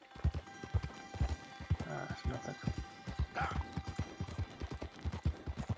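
Horse hooves clip-clop in a steady galloping rhythm in Red Dead Redemption 2, ridden on a Splashed White American Paint, with a brief whinny and someone talking over the hoofbeats.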